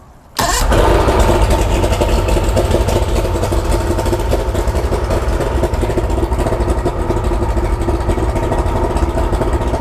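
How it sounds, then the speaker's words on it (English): An outboard motor on a Bass Cat boat, running on flushing muffs, starts abruptly and settles into a loud, steady rumbling idle that runs unbroken to the end. "hook the muffs up to the motor and let her run a little bit"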